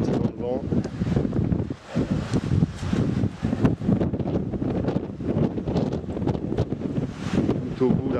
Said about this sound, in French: Voilà, on est reparti dans le vent.